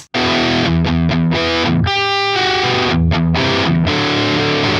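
A lone distorted electric guitar plays chugging power chords with short rhythmic breaks, loud and centered, sounding narrower and thinner than a layered part.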